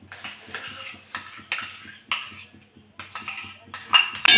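Palm pulp being stirred in a wok over a gas flame, with repeated metallic scrapes and clinks of a spatula against the pan in an uneven rhythm, fairly close, alone without talk.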